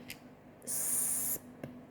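A single short hiss of spray bursts out for under a second, sharp and airy, between quiet clicks.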